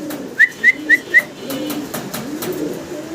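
White Danish pigeons give four quick, clear whistling calls in a row, then soft low cooing and rustling sounds.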